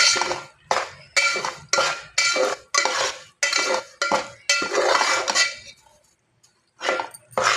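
Satyanarayan puja prasad mixture being stirred in a pan with a utensil, giving repeated loud scraping and clinking strokes in a steady rhythm, close by, with a brief pause before stirring resumes.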